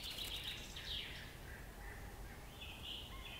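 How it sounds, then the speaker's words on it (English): Faint, thin bird calls come in short high chirps and whistles, a few separate bursts over a quiet outdoor background. "I wonder what bird that is."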